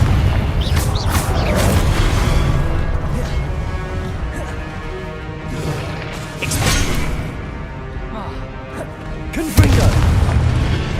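Repeated Confringo blasting-spell explosions in Hogwarts Legacy, several deep booms and crashing bursts spread across the stretch, mixed with game sounds and a voice talking over them.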